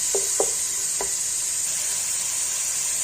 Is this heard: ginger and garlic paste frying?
yes